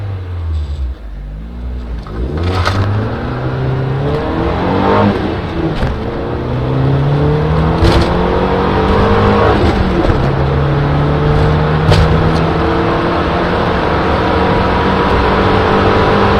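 An Audi 80 B2 with a swapped 1.8 20V turbo engine revs up through several gears, pitch climbing and dropping with each shift, loud and close under steady road noise.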